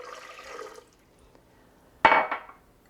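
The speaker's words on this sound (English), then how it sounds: "So we're gonna take 1 cup of water, 1/2 a cup of aloe water" Water and aloe water are poured for a spinach smoothie: a brief, sudden splashing pour after a quiet pause, following faint earlier sounds.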